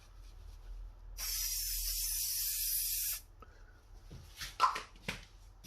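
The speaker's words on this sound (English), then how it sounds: "spray it and then give it a darker tone" A steady hiss of an aerosol spray can sprayed over a drawing for about two seconds, followed by quieter rustling and a few small clicks.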